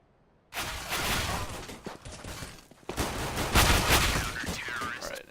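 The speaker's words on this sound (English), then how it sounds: "you can hear little gunshots going off" Rapid bursts of gunfire from a video game as a teammate is shot down, dense and fairly loud, with shots crackling in clusters across the clip and no talk over them.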